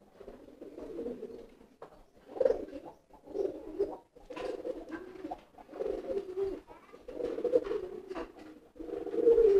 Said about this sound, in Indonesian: ini yang menjadi merpati giringnya kenceng nih